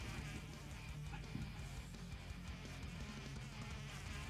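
A flying insect buzzes steadily in Cockroach Simulator, a continuous low droning hum that lasts throughout against background game noise.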